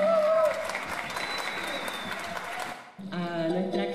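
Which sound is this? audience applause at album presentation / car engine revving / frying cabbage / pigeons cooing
audience applause at album presentation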